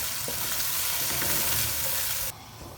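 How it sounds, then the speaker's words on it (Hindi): Yogurt frying with spice masala in a pan for Lahori chana, a loud, steady sizzle that fills the clip alongside a few stirring scrapes, then drops abruptly to a quieter sizzle near the end. "1 मिनट तक लो फ्लेम पर पकाने के बाद अब हमने फ्लेम को मीडियम कर दिया और अच्छी तरह से दही की भुनाई कर लेंगे मसाले में"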